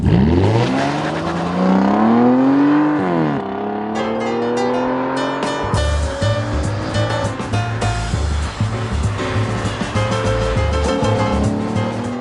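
An Aston Martin Rapide's 5.9-litre V12 engine revs up and settles into a steady, throaty rumble over a background of music, loud and close.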